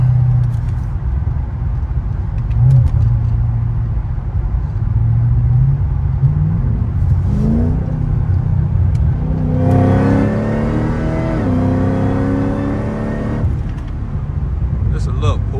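A Cadillac CTS-V accelerates and revs in snow, its engine climbing through a strong pull over a steady road rumble while someone talks over it.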